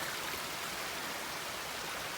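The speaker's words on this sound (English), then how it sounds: "A nice little waterfall right off the trail over here, a little creek." A small waterfall and creek beside a hiking trail give a steady, even rush of falling and flowing water, close and constant, with no voices.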